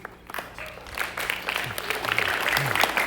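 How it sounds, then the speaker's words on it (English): A classroom audience at a school author visit applauds a classmate, a short burst of clapping that swells toward the end, with a voice speaking over the start. "Let's give your classmate a round of applause."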